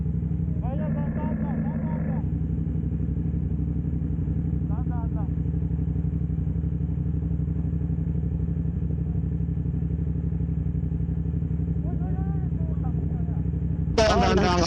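A motorcycle on a group invitational ride in Ilocos Sur produces a steady, loud engine drone throughout, with voices speaking and a short burst of clatter at the end.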